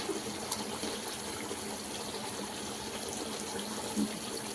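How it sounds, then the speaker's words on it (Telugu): Soaked basmati rice is poured with its soaking water into a pot of cooking chicken for pulao, giving a steady trickling, splashing pour that runs throughout at moderate level. "ఈ రైస్ మనం నానబెట్టుకున్న రైస్ని వేసేసుకుందాం. వాటర్తో సహా అలానే వేసేసుకుందాం"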